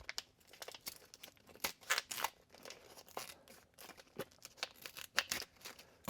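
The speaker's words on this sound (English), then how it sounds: "let's go cut the bag open" Plastic inner bag from a shaving cream can being cut open lengthwise, giving close, irregular crinkling and tearing bursts.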